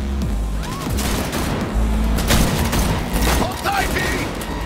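Gunfire in the video game Cyberpunk 2077 during a vehicle chase: loud, dense bursts of shots crackle over a steady engine rumble, with game characters shouting between the volleys.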